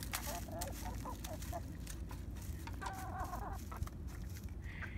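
Backyard chickens cluck softly while eating oatmeal, giving a few short, faint bursts of clucking in a quiet outdoor setting.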